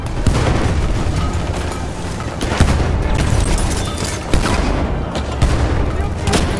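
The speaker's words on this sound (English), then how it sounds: "Throw grenade, watch it!" Grenade blast amid a Battlefield firefight: dense, loud gunfire and repeated heavy booms fill the whole stretch, with a few sharper explosive hits standing out and voices shouting beneath the battle.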